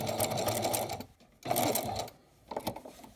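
A sewing machine stitches quilt binding off the fabric edge in steady rapid bursts, running about a second, pausing briefly, then resuming twice, close and fairly loud with no voices.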